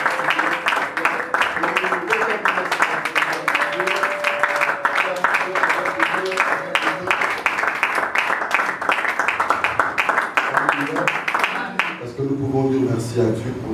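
A church congregation applauds in sustained, dense clapping that carries on for many seconds, with a voice over it, then fades as the hands stop.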